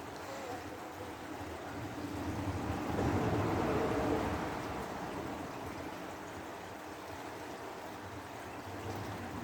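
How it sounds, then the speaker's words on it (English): Water flows in the Averon River under a road bridge, a soft, continuous rushing wash heard from nearby, swelling slightly midway, with a faint traffic hum underneath. "it's nice to hear the water"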